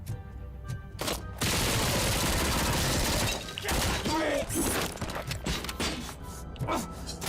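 Rapid bursts of gunfire from the video game Robohobo Cop, a loud, dense fusillade that runs through most of the stretch, with game sounds and a voice breaking in toward the end.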